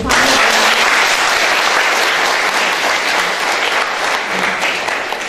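A large audience at a ceremony marking the fifth anniversary of the historic victory in Salyan district claps loudly and continuously, a dense wash of applause from start to finish.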